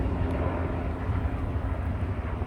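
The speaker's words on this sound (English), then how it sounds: "There's a helicopter right there surveilling." A police helicopter circles over a residential neighborhood, its steady rotor and engine drone filling the air as a continuous, fairly loud rumble with no speech.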